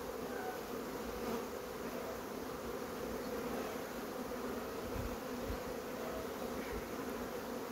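Honeybees swarm around a hive that has grown too crowded for its colony, giving a dense, even buzzing that fills the scene at a steady level, with no talking.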